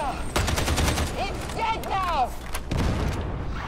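A gun fires in the video game Warhammer 40K Darktide. A rapid, close burst of sharp shots opens, then comes a pause filled with whooshing game effects, and a few more scattered shots follow, with voices faintly beneath.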